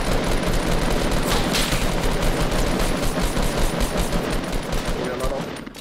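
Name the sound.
gunshots in a video game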